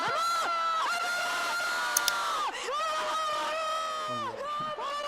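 Dense stadium crowd at a women's football match roaring and shouting after a Spain goal, with long sustained high-pitched screams and cheering that stay loud throughout, close and unbroken.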